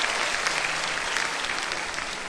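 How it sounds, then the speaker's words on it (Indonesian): An audience of university students at a stand-up comedy show applauds steadily, a dense continuous patter of many hands clapping at full volume with no voice over it. "Pertama-tama tepuk tangan dulu Mercu Buana."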